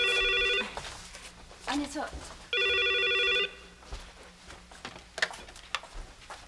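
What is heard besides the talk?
telephone bell ringing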